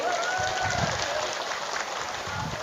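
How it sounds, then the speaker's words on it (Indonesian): A crowd at a speech applauds in a short, dense wash of clapping with voices murmuring underneath, steady and fairly loud throughout. "Tepuk tangan dulu."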